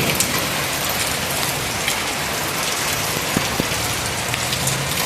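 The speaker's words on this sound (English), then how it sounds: "I know some of you like to hear the rain on the roof and how it sounds" Rain falls on a roof as a dense, even patter that stays steady throughout, with a few sharper drips standing out.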